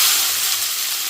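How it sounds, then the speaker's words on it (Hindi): Bay leaves, chopped onion and chili frying in a pan give a steady, loud, close sizzle that continues without a break. "तेज पत्ता डाल रही हूँ और जो प्याज मिर्ची मैंने चॉपर में"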